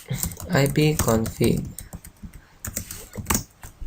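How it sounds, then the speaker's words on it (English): Quick bursts of typing on a computer keyboard, clicky keystrokes in uneven clusters close by, with a voice speaking over the start. "need to type ipconfig"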